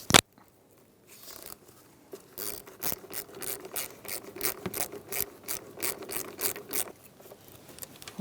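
Ratchet tightening a fastener on the radiator fan shroud of a 2007-2017 Ford Expedition 5.4L V8, a steady run of close, rhythmic clicking bursts lasting several seconds with no talk.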